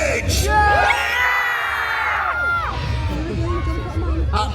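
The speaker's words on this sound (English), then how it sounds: "I need you to make some noise." A crowd at a monster truck show in York yells, whoops and cheers loudly and continuously, rising voices swelling together for several seconds with an announcer-style shout mixed in near the start.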